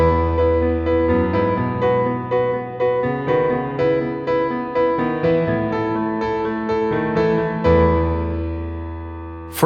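Piano playing sustained block-chord voicings, a steady pulse of repeated chords over a held bass, rich and resonant, with a fresh low chord struck near the end, no voices.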